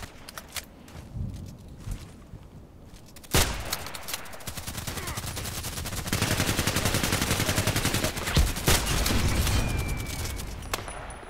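Rapid bursts of gunfire in a shooter game, including a Glock 18 machine pistol: scattered shots at first, then a loud crack followed by sustained, dense automatic fire that rattles on with short pauses.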